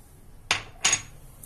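Two sharp metallic clanks of a utensil striking a pot while mixing seasoned pork rib meat for rib rice, brief knocks about a third of a second apart over a quiet background.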